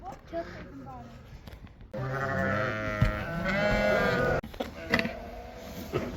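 Sheep bleat loudly and close by in a long, wavering call. Fainter bleats and some shuffling noise come before and after it.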